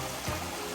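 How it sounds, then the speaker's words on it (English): Waterfall on the Pacific Crest Trail in Washington near Mirror Lake, a steady broadband rush of falling water heard from nearby, constant and unbroken across the moment. "Another beautiful waterfall."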